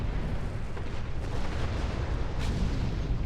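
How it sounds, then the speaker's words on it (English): Romulan warships firing torpedoes in Star Trek Online, a loud sustained rumble of booming blasts with a sharper burst near the end and no talking. "Romulan attack wing! Fire torpedoes into that thing's maw!"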